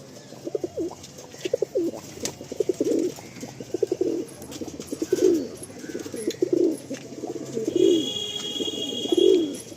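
A pigeon pair coos repeatedly in a loft, close and clear, in a series of rolling, throaty phrases with short pauses between them and faint chirps in the background.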